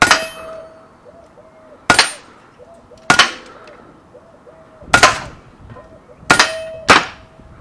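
Air pistol pellets from a Huben GK1 semi-automatic PCP pistol strike a spinning metal target, giving about six sharp, ringing clangs spaced a second or two apart, each followed by a brief metallic whirr of the target turning.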